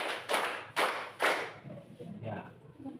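Hands clapping three sharp, evenly spaced times in a counted rhythm, close and loud, followed by softer tapping and quiet sounds.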